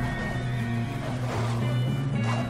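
A horse whinnies loudly and continuously in Red Dead Redemption 2, its tonal neigh steady and close over a rumbling game soundscape with faint hoof clatter.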